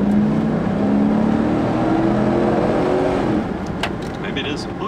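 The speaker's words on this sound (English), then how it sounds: "Get the sucker up to highway speed." A 2005 Hummer H2 engine pulls steadily as it speeds up toward highway pace, a loud, continuous rising drone heard from inside the cabin that eases slightly toward the end.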